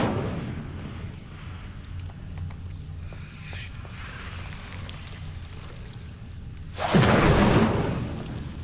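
Incendio fire spell cast in a Hogwarts video game, a sudden loud whooshing burst of flame near the end, over a steady low background ambience.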